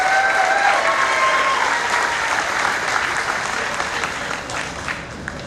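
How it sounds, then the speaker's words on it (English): A crowd at a barbecue competition awards ceremony applauds for a competitor, steady clapping that fills the room and slowly tapers, with faint voices beneath. "Big round of applause for Candy Weaver"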